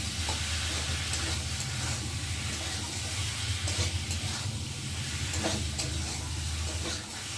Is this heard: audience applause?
no